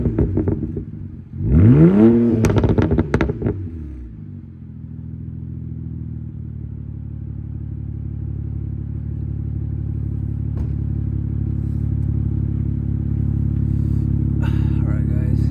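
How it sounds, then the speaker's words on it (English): A BMW 335i with an MHD and JB4 burble tune revs hard once, rising to a sharp peak and dropping away, then settles into a steady low idle rumble with faint crackles near the end. "I'm just gonna give you guys a quick little revs"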